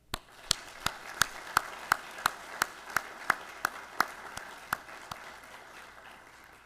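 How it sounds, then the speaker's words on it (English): Sparse, slow hand clapping at an ROTC commissioning ceremony, a few individual claps at a steady rhythm over faint room noise, fairly distant and modest in volume. "Please join me in a round of applause for the cadre,"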